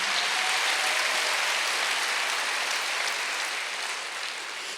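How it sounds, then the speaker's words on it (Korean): A congregation at a Wednesday church service claps together, a dense, continuous wash of applause that holds steady and then tapers slightly toward the end. "박수하세요."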